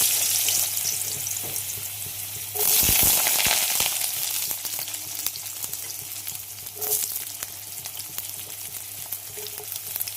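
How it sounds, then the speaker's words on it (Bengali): Potatoes frying in mustard oil, a dense, continuous sizzle that jumps sharply louder for a moment midway, with faint scraping and clinks. "একেবারে সর্ষের তেল নিয়ে নিলাম, এর মধ্যেই পুরো রান্নাটা করে নেব। আলুগুলো আগে ভেজে নিই।"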